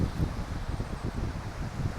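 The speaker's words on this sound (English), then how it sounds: "We've got some pretty good onshore wind cranking." Onshore wind blowing steadily across a beach at high tide, a continuous low buffeting rumble with gusty pulses against the microphone, no voices.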